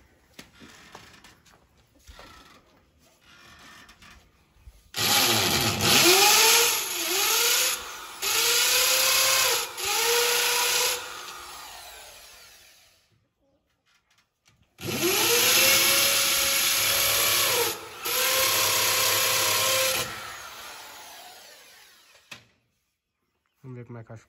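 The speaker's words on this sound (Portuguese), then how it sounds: "Nós furando aí, furando na frente da tua casa pra botar a placa." A power drill bores into a house front to mount a sign, in two long loud close bursts with whining spin-up and slow-down pitch sweeps, separated by quieter gaps.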